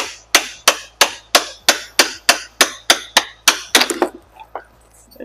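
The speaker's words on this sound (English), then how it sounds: "You don't want to go crazy hitting it with a hammer, but it can really help to just tap this out." Hammer tapping a 3/8 socket to drive out the axle of a Talaria XXX electric motorbike, about a dozen sharp, evenly spaced metallic strikes close up, the last few quicker and messier before it stops.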